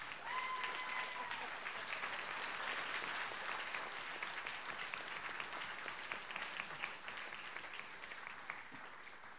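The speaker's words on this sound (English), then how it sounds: "I think that all of these gentlemen deserve a round of applause" Sustained applause from a Tea Party debate audience for the CD-8 congressional candidates, a steady, full wash of many people clapping that holds throughout and tapers slightly near the end, with faint voices mixed in.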